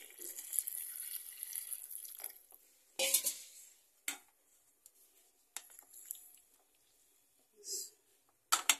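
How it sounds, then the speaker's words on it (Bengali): Water poured into a cooking pot in a rural home kitchen while preparing vegetables and pangas fish curry, heard as a broken run of splashing and trickling bursts with short pauses between pours, close and fairly quiet. "জল দিচ্ছি"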